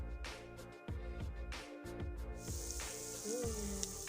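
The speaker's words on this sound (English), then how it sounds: "Our stir fry is now sizzling." Beef stir fry sizzles in a pan beside roasted potatoes, a constant bright crackle under repeated stirring or scraping clatters, fairly faint overall.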